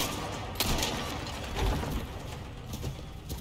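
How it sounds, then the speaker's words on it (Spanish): Gunfire in the Resident Evil 4 Remake video game, a few sharp shots over a dense, noisy game soundscape, moderately loud and fairly close. "Disparo al trasero."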